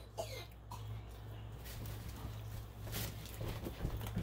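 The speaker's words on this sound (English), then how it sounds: "He's coughing." A small child coughs a few times over a steady low hum, with some faint movement in the background.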